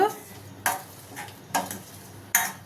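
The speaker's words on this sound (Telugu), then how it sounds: "మీ రుచికి సరిపడా వేసుకోండి చింతపండు పులుసు" Tamarind juice goes into a simmering pan of vegetables for a Telugu-style stew, with three sharp scraping stirs of a spoon against the pan over a soft, steady background bubbling, close and moderately loud.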